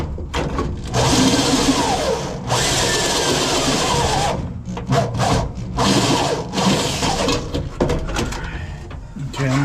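A drill fitted with a 90-degree bit works on sheet metal during fabrication on a '57 car, giving intermittent whirring, grinding bursts that start and stop repeatedly up close.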